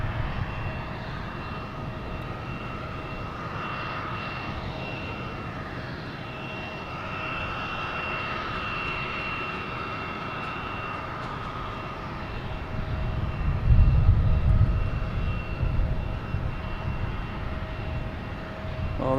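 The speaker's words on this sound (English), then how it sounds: "Right next to me in American Airlines, an A321 coming in from Philadelphia." An American Airlines Airbus A321 arriving from Philadelphia at Boston Logan drones steadily with tonal engine whine, then swells into a deeper, louder rumble as it passes close by, with no talking.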